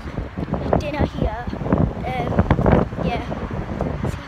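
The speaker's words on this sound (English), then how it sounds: "it's actually really freezing and windy right now" Cold wind blusters across the microphone outdoors, a low rumbling buffet running throughout under people talking nearby on a freezing evening.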